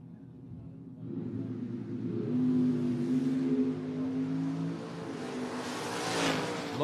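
A candy apple red Chevrolet Malibu drag racing at a memorial drag race, its engine roaring up from a quiet start into a loud sustained rev that rises again toward the end, close and without speech.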